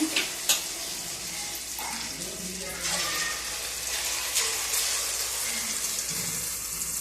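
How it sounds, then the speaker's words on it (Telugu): Idli batter bondas deep frying in hot oil, a dense continuous sizzle and crackle close by with occasional sharper pops, no talking. "నూనెలో వేసేటప్పుడు జాగ్రత్త అండి ఇట్లా నూనెలో వేస్తేనే పైకి వస్తాయి"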